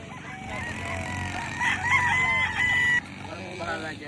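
Gamecock stags at a farm pen: a loud nearby rooster crow rises over scattered clucks and other birds, with people talking in the background.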